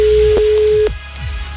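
A telephone rings for a prank call, one sustained electronic tone close and loud for under a second, followed by faint handling noise.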